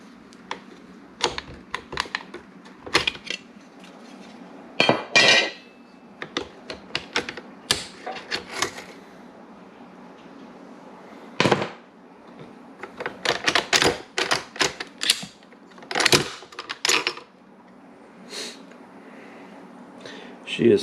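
An AK47 rifle being torn down, with sharp metallic clicks, snaps and clatters of parts coming apart at irregular intervals, close and crisp, with occasional quiet talk between them.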